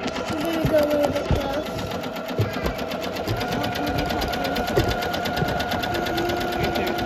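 A Janome MC230E single-needle embroidery machine stitches an anchor detail on a baby bodysuit, giving a steady rapid mechanical whir and needle clatter that runs throughout, close and fairly loud, with faint voices in the background.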